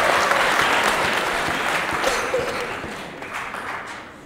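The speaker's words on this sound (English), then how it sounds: "I think you ought to give me a round of applause for that" A crowd applauds steadily, a dense wash of clapping that holds strong and then slowly thins toward the end.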